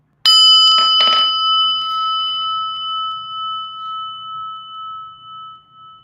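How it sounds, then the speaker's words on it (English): A prayer bell is struck a few quick times, then one clear, bright tone rings on alone and slowly fades over several seconds, close and fairly loud, with no voices. "Listen to the prayer bell."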